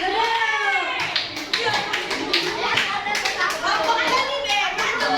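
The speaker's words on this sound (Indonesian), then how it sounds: "Tepuk tangan dong untuk kelompoknya Trio Mece." Children in a classroom clap for a classmates' group, a brisk patter of small hands running throughout, with children's voices and an adult talking over the clapping.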